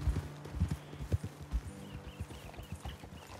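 Horse hooves clip-clop in Red Dead Redemption 2, making a steady run of close, thudding footfalls on the ground with no speech.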